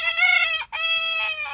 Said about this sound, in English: Let's see if he'll crow again.